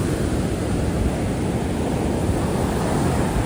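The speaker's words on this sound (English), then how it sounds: "it sounds awesome, the waves." Steady surf from ocean waves on a Phuket beach forms a dense, even wash of noise throughout, close and moderately loud, with no one talking.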